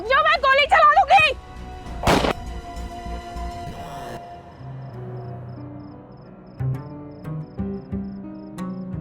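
A single sharp gunshot cracks out loudly in a tense Hindi crime-drama confrontation, following a raised, wavering voice and sitting over low dramatic background music.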